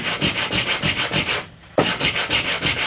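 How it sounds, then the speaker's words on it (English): Wood is sanded by hand along the grain in quick, rhythmic back-and-forth strokes, close and scratchy, with a brief pause before the strokes resume. "and then sand with the grain"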